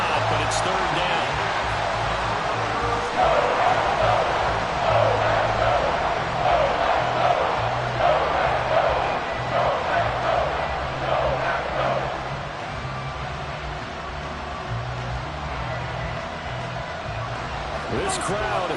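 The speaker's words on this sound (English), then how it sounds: "This crowd turning up the decibel level." Stadium crowd in Madden NFL 24 roaring steadily through a Bears vs Packers game, a dense sustained din that swells loud then eases slightly, with a commentator talking over it.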